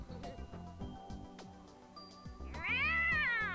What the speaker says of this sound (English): Maho was told to say something interesting, so she just meowed